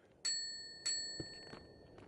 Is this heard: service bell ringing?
yes